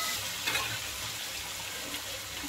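Fenugreek (methi) leaves are sautéed in a pan for besan pithla, a soft, low frying hiss with faint stirring scrapes, quiet and steady with no voices.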